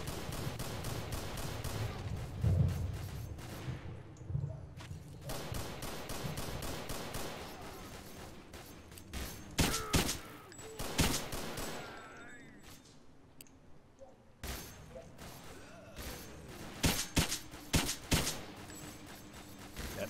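Gunfire crackles in S.T.A.L.K.E.R. Misery Mod as fighters battle zombies nearby, with scattered single shots and short bursts, some sharp and close, others more distant, spread over a low ambient bed.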